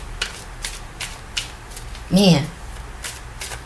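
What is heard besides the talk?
shuffling a deck of angel number cards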